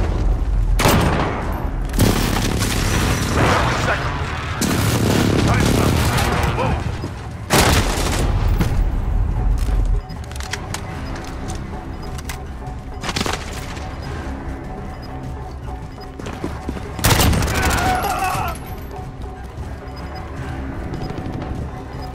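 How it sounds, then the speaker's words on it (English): Precision airstrike in Call of Duty: Modern Warfare, a string of heavy booming blasts and crackling gunfire, loud bursts early that fade into scattered thuds and pops, with a second cluster of explosions near the end. "Precision airstrike inbound."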